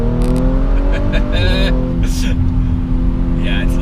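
An ABT-tuned Audi RS5 R with a 530 hp engine pulls hard under acceleration, a steady loud engine drone with rising harmonics running throughout, while people talk over it.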